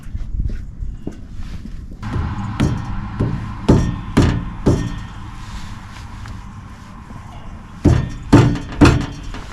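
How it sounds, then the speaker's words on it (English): A series of dull, solid thuds from a rubber mallet struck at an uneven pace, some in quick clusters, with a final burst of three louder blows near the end. "let's try rubber mallet first"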